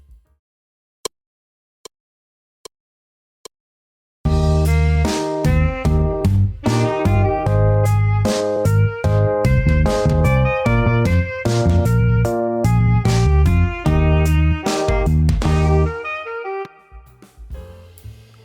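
Saxophone phrase mixing stepwise scale runs with triad leaps, a steady melodic line over a full jazz backing that plays for about twelve seconds after a few sharp count-in clicks, then fades out.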